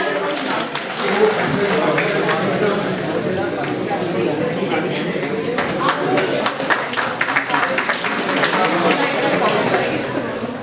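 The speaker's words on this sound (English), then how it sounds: "Can we please have a huge round of applause for" A crowd claps loudly and continuously for an award winner at a valedictory ceremony, a dense steady applause with scattered sharper hand claps throughout.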